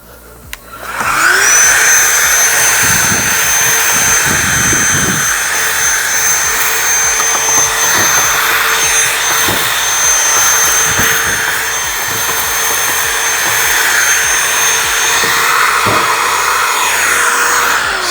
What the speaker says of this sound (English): Let me grab the vacuum.